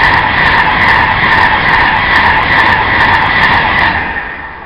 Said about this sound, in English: The Alston Pendolino.